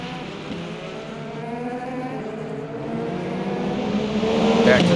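A BMW GT3 race car in the video game Le Mans Ultimate, its engine note rising and falling through gear changes as it accelerates, growing louder toward the end.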